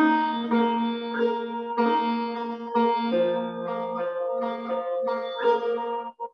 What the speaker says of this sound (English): So this is called the sarod.